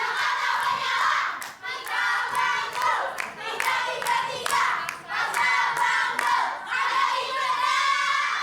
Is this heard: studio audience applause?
yes